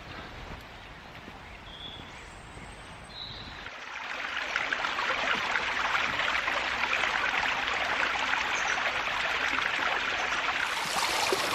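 Stream water flowing in woodland, a steady broadband rush that starts fairly soft and grows louder and fuller after a few seconds, then continues evenly without talk.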